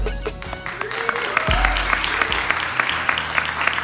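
Audience at a film screening event in a theater clapping, a steady crowd applause with scattered sharper claps, some low rumbling noise and faint voices mixed in beneath.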